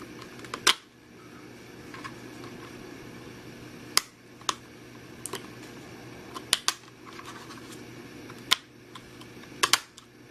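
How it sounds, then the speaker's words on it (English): A RAM module is fitted into an older notebook, with a few sharp plastic clicks and snaps spaced unevenly over a faint steady hum. No one speaks. "Make sure the RAM is facing the right way up. Just pop it in there."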